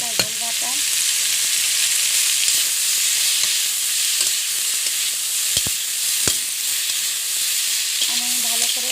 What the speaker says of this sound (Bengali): আমার ডাঁটাটা একটু ভেজে আসছে